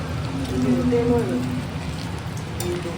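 Steady heavy rain hisses over a surface throughout, with a voice talking faintly underneath near the start.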